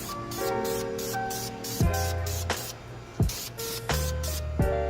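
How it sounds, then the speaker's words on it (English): Brake calipers get short, light bursts of red VHT caliper paint from an aerosol can, a close hissing spray repeated in quick passes over a steady background hum. "Just get all of it. Just multiple light sprays."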